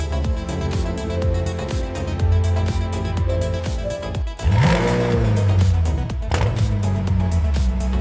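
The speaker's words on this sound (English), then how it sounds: "The engine awakens with a sound unmistakably McLaren." A McLaren supercar engine fires up at the factory, catching with a sharp rising rev midway, then settling into a loud, steady throbbing idle, all over a bed of music.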